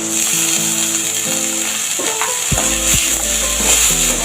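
Soaked moong dal is sautéed in a frying pan with a constant loud sizzle, along with stirring scrapes and a few dull knocks and rattles from the pan partway through.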